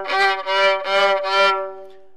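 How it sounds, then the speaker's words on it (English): Sustained harmonic notes, likely from an accordion or melodica-like instrument, played as slow swelling trampling music for toddlers in four pulsing phrases, close and clear with no talking. "So I'll play some trampling music."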